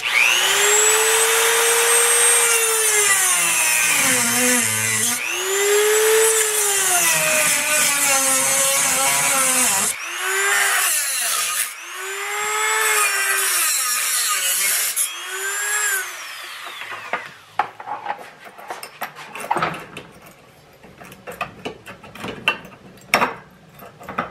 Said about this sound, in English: now I'm gonna try to go back in with the Dremel and see if maybe I can't clip some of these off